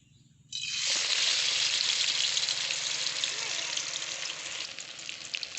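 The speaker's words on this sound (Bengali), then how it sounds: "তেল গরম হয়ে গেছে হালকা করে এবারে আমি একটা নিয়েছি আর এইভাবে ভালো করে ভিজিয়ে নেব ভালো করে ভিজিয়ে নিয়েছি এবারে আমি তেলের মধ্যে দিয়ে দেব" Battered snack dropped into hot oil sets off a loud, steady sizzle and crackle of frying that starts abruptly and carries on close by without pause, alone.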